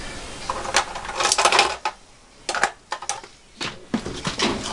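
Metal spanners rattle and clink as someone rummages through them, with a run of sharp, irregular jangles and clatters close by, then pauses and further bursts of scraping metallic clinks.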